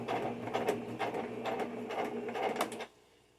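A White Model 1740 sewing machine, started with a push button instead of a foot pedal, runs in a quick rhythmic chatter of needle strokes, close and moderately loud, then stops abruptly.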